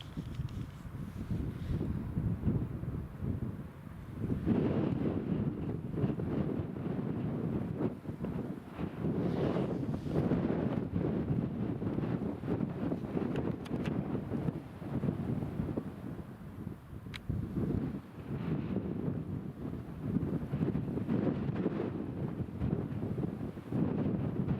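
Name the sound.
wind blowing at an airport runway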